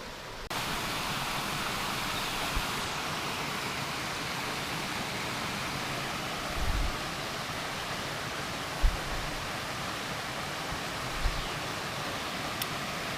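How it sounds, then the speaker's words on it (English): A small mountain stream in a remote part of New Hampshire runs down into little pools, producing a steady broadband rush of flowing water with a few faint low bumps, no voices. "all these nice little pools from this stream coming down"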